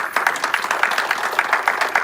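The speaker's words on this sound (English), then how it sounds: "I want everyone to give you guys a round of applause for being here today." Brief round of applause at a city school meeting, a small group clapping in a quick, fairly even rhythm at close range.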